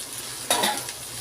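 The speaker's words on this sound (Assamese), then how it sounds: "এতিয়া মই ইয়াত ভেন্দিখিনি দি দিম। আৰু লগতে মই আলুখিনিও দি দিছোঁ।" Okra and potato pieces frying in a pan, a soft sizzle with a brief stir or clink of a utensil in the middle.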